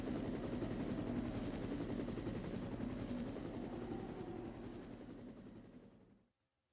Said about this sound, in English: Wait, but the helicopter already showed up. Why is it coming back down again?